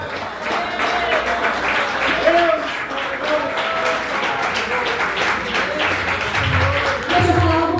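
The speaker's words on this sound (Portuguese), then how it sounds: "Exalte o Senhor com as melhores palmas que você possa dar a Ele" A church congregation applauds in praise during an evening worship service, dense continuous clapping filling the room, with voices and singing tones mixed in underneath.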